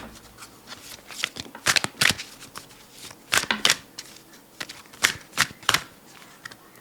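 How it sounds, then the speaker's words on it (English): A deck of oracle cards is riffled and shuffled by hand in quick, crisp bursts, several flurries in an irregular rhythm with short pauses between them, close and clear with no voice over them. "Let's pull a card from Metatron."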